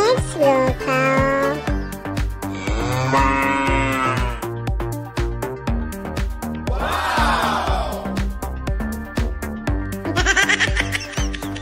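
A cartoonish cow moo from an animal-crossing fountain game sounds among busy, loud game music and effects, with several other bleating and animal calls rising briefly over the steady rhythmic backing.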